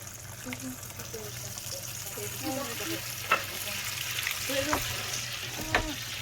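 Butter crackles and sizzles steadily in a hot pan, with a few sharper spits and pops, while people talk quietly nearby.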